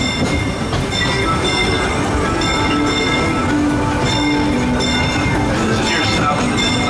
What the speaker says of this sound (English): This is your stop on the Disneyland monorail